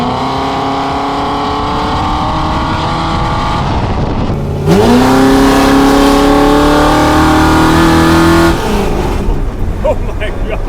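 A homebuilt LS-swapped rat truck's V8 roars loud and close, holding a steady drone, then surging upward in pitch as it accelerates hard for several seconds before easing off.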